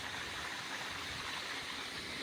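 Well water flows into a cumin field on a village farm, producing a steady, dense rushing gush that holds evenly throughout, close by and without voices.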